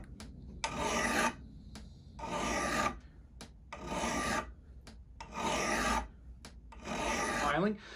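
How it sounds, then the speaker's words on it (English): A brand new Grobet file rasps across the bit of a Gransfors Bruk axe of Swedish steel, five long, loud, even strokes with short quiet gaps between them, alone with no talk. "when I was filing this axe, I was using a brand new Grobet file"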